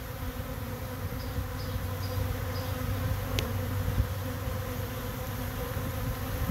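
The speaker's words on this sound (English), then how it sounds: "This makes 3 swarms on the tree for this year." A honey bee swarm clusters on a tree, giving a continuous low, soft buzzing drone close by, steady throughout with no voices.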